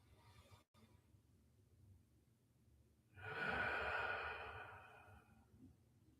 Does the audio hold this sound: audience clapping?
no